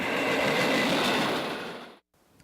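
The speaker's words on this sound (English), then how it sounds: "just entire trains of ethanol go past us" A freight train hauling tank cars of ethanol rumbles past on nearby tracks, a loud, steady roar with a faint clickety-clack that fades slightly, then cuts off abruptly near the end.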